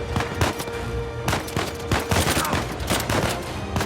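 Gunfire in the video game Uncharted 4: loud, rapid bursts of shots crackle in close succession throughout, with no voice over them.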